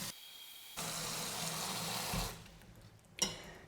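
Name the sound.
filling a salad spinner bowl with cold water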